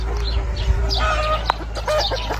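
Several Andijan black chickens cluck and chatter nearby in a busy farmyard pen, a faint crow rising briefly among them.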